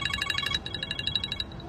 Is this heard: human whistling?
no